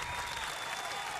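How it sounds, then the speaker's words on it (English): Studio audience applause for 2 Chainz on a morning radio show, a dense continuous clapping roar heard alone, with a faint tone running through it. "round of applause for 2 Chainz"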